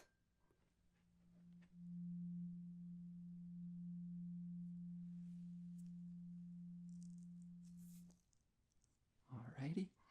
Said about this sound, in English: once again, hit my tuning fork